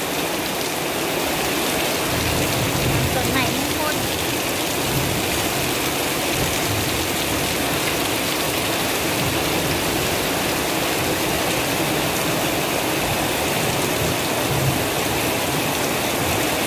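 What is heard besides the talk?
heavy rain during a storm in Chiang Mai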